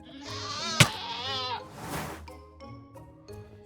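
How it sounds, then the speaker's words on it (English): A Minecraft screaming goat lets out a long, harsh bleating scream, followed by a sharp click and a second rougher cry, close and loud. "all of our goats can be screaming"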